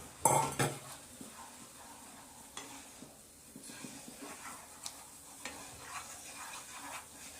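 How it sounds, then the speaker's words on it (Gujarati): Kansar batter for the Gujarati sweet being stirred with a wooden rolling pin while flour is gradually added, giving soft scraping and occasional knocks against the pot, quiet and steady with a few sharper taps. "ધીમે ધીમે વેલણથી હલાવવાનું અને ધીમે ધીમે લોટ નાખવાનો।"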